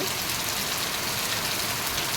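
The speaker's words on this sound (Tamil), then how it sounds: "இங்கே பாருங்கள் எந்த அளவுக்கு மழை வந்து பெஞ்சிட்ருக்குன்னு சொல்லிட்டு." Heavy rain pours steadily, a dense, even hiss of drops hitting surfaces nearby, with no voices.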